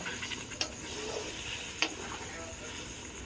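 Water goes into a pan of curry masala and is stirred through, giving a steady wet sizzle and scraping with two sharp spoon clinks against the pan, close up and without talking.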